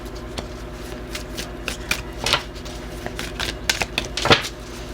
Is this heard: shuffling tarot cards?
yes